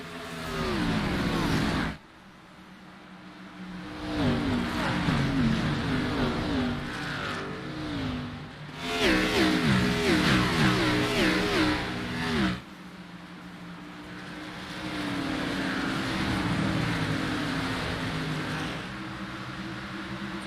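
A pack of race cars at Richmond Speedway in a sim racing series surging on a green-flag restart, engines revving hard and rising in waves while a commentator talks excitedly over the roar.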